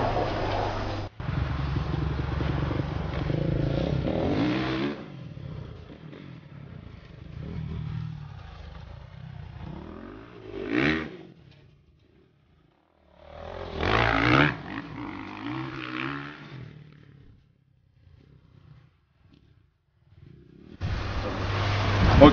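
A 2009 Kawasaki KXF450 motocross bike at a scramble race, its engine revving in loud broadband bursts that swell and fade, with quieter gaps between passes and a final rising roar.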